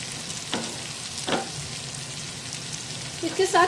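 Bitter gourd and onion sizzling in a pan, a steady close frying hiss broken by a few stirring scrapes, with a brief clatter toward the end.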